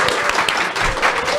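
An audience at a Korean church book talk applauds to open the event, a dense, loud, continuous wash of clapping from many hands.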